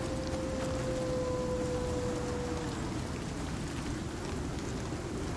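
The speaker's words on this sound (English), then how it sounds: "It does still feel like it's not too heavy rain," Rain falling in the survival game Icarus, a dense, even hiss of drops that stays constant throughout, with a faint tone fading out early on and no talking.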